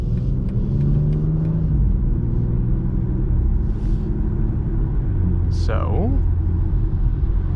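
A BMW X4 M Competition with the S58 engine and ZF 8HP gearbox drives along, its engine a steady loud rumble with a brief rising rev near the end, while a person talks over it.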